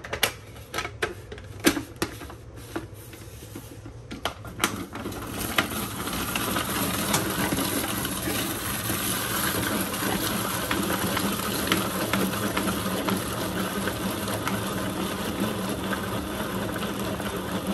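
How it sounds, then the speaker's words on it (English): A small gadget chops up little vegetables: a few sharp clicks, then a loud, steady rattling whir that runs without a break for over ten seconds. "we have this little apparatus here that's just gonna make cutting all these little vegetables up a little bit easier"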